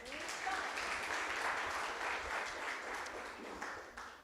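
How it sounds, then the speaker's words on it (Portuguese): A church congregation applauds during a celebration service, a broad wash of many hands clapping at once, steady for several seconds before tapering slightly, heard at a moderate distance. "Vamos aplaudir ela."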